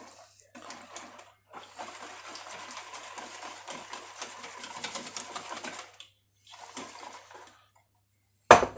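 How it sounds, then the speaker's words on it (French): A whisk or spoon stirring beaten eggs into melted chocolate in a bowl, making a steady close scraping and swishing with brief pauses, ending in a sharp clack. "On remue bien jusqu'à temps que les œufs se mélangent bien à la préparation."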